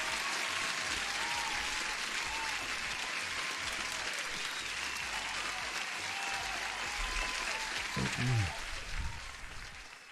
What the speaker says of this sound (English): guys, Ukando deserves a nice applause there